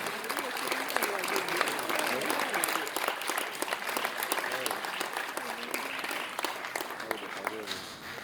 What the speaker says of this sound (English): another round of applause to Vigat Alisana.